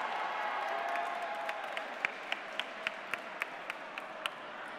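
Audience applause at a robotics competition award ceremony for the Sumo Arduino second prize, a steady wash of clapping that thins into a few distinct, sharp claps toward the end.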